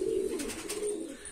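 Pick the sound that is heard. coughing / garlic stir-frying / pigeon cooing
pigeon cooing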